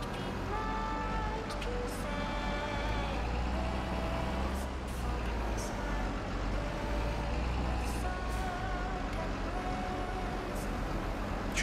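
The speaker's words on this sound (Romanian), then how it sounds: "ia hai să luăm noi încărcătorul pe roți" Wheel loader in Farming Simulator 22 on a sugar beet harvest, diesel engine rumbling steadily with intermittent reversing beeps and a hiss of air, while someone talks over it.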